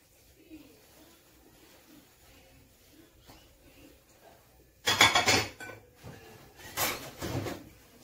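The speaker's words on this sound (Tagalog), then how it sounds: "hindi ako pretender na naghuhugas-hugasan ng pinggan" Dishes being washed by hand, with two loud bursts of clattering plates and rushing water midway through after a quiet stretch of faint room noise.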